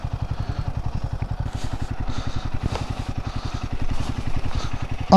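A Kawasaki Ninja 300 motorcycle idles in neutral on a mountain canyon road, its engine giving a fast, even stream of close, loud pulses that hold steady throughout.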